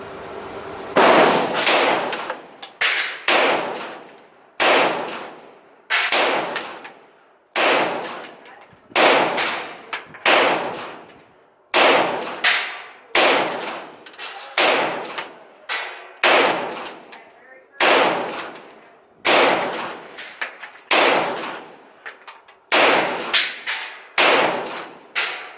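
A Stribog SP9A1 fires test rounds of ball ammunition: about a dozen loud, sharp reports, some in quick doubles, spaced a second or two apart across the stretch, with no one speaking.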